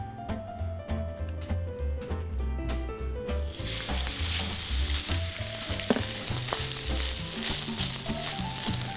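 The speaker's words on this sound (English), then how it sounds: "Once you place the steak on the pan, you don't need to move it around. So let it cook." A steak searing in olive oil in a hot pan: after a few seconds a loud, steady sizzle and crackle bursts in and holds to the end, over soft background music.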